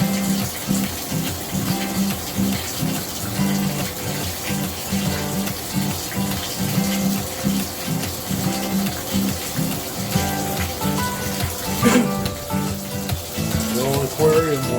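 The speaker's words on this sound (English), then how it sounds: "Little aquarium water dump." Dirty water from a 10-gallon Top Fin aquarium poured out during a water change, a steady, continuous splashing gush running loud and unbroken throughout.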